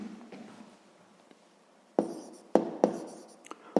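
Pen or chalk scratches out a math solution in several short, close strokes, quiet taps and scrapes with brief gaps between them.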